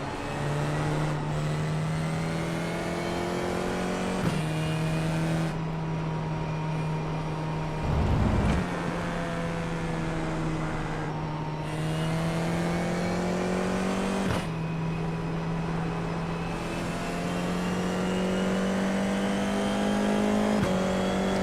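An FIA F4 race car engine in the iRacing sim game revs steadily and climbs through the gears, with several sharp shift breaks as it accelerates, loud and continuous.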